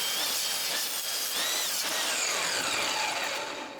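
A saw rips a board lengthwise into 2x2s against a fence, producing a loud, high, hissing whine with a shifting pitch as the blade cuts, fading slightly at the end, with no voices.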